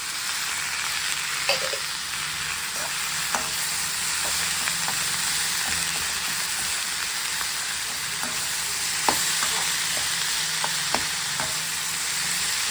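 Capsicum, tomato and grated carrot sizzle in a pan over onions for upma, a continuous bright frying hiss with occasional sharp pops and stirring clicks, close and steady with no talking.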